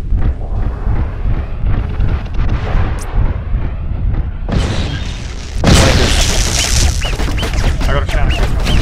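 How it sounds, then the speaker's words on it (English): Missiles strike in the MechWarrior Living Legends game, a run of heavy booming explosions and rumbling blasts over a steady roar. Players talk over the combat. "Missiles are coming."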